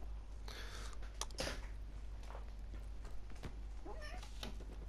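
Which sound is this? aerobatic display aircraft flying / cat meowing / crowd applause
cat meowing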